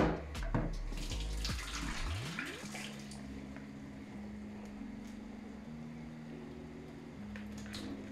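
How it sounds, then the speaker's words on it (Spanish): Hot tap water running into a strainer of white rice being rinsed of starch, a close gushing splash at first that settles into a steady stream, with no talking. "Y lo volvemos a enjuagar con más agua caliente."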